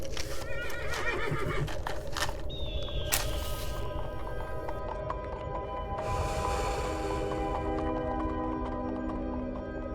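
Horse neighing in a radio drama sound effect set in a desert, loud whinnies near the start with clip-clop hooves and a second whinny later, under layered effects and music.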